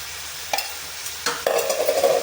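Goat trotters fry in a pan with a constant low sizzle, broken by a few scraping stirs. The frying grows louder and crackles more in the last second.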